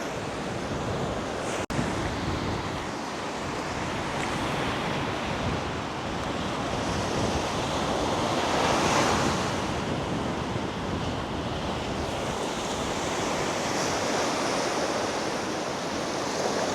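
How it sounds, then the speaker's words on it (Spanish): Ocean surf breaks continuously on a beach at Guanabo, Cuba, a broad steady roar of waves with wind buffeting the microphone and no voices. "Espero que se escuche bien el audio aquí dentro de la playa"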